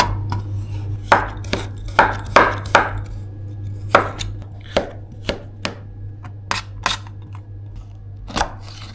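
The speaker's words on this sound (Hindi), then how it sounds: "सो आज मैं कर रहा हूँ चॉपिंग" Knife chopping vegetables on a cutting board in a home kitchen: a run of sharp, close taps in irregular bursts, some quick doubles, over a steady low hum, with no voices.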